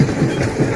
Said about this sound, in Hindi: सामने से ट्रेन भी आ रही है उधर से.